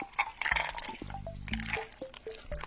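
Tomato paste sauce poured onto a dish, a short run of wet, squishy drips and glugs close by with no talk.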